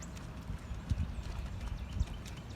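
Horses trot and play in the rain, soft hoof thuds sounding irregularly at a moderate distance, with a couple of heavier footfalls among a damp outdoor background and no voices.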